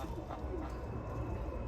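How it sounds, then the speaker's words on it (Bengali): A white-and-black pigeon coos softly and low amid a steady, noisy background, the calls blending into a continuous murmur with no clear break. "নতুন পায়রা এসছে"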